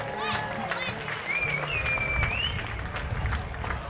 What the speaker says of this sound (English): How about another big round of applause, folks?